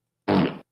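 A short, loud, low buzzing fart sound effect, a single blast under a second long, close up with nothing else around it.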